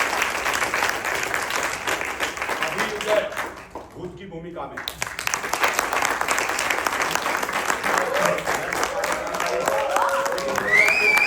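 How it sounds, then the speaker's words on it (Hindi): Theatre audience applauding during a Hindi play, with a crowd of clapping hands that breaks off briefly, then resumes strongly while a voice speaks over it. "इस बात पे एक बार तालियां होंगी।"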